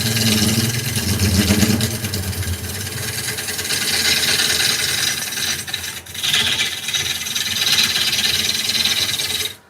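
A carbide tool trims a wooden bowl spinning on a lathe, giving a loud, continuous rasping scrape over the machine's hum. It breaks off briefly midway, then resumes. Close by, with no talking.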